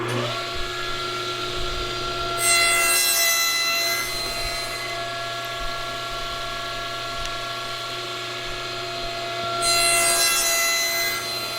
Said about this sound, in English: Make my first cut at that position, then move it over a 1/2 inch, 2 clicks, and make my next cut